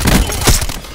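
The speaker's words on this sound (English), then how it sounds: "Firing sensor dart." A sensor dart fires in Call of Duty: Black Ops 4 multiplayer, a single brief, loud, close thunk with a sharp crack and a short rattling tail.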